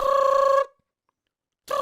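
An office phone on an internal extension rings with a loud, steady electronic trill, cuts off for about a second, then starts ringing again.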